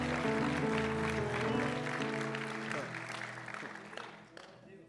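Church audience clapping together during a service, a steady wash of applause over held musical chords that gradually fades toward the end.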